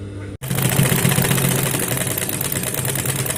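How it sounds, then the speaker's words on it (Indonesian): A Juki industrial sewing machine stitches a buttonhole, starting abruptly after a brief gap and then running as a loud, continuous rapid mechanical whir with fast needle chatter, close and alone. "saat menjalankan mesin buat lubang kancing ini pelan-pelan saja ya, jangan kencang-kencang"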